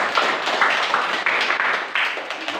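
A classroom of students applauding a classmate after she answers a lesson question on levers, a steady burst of many hands clapping close by, without talk over it.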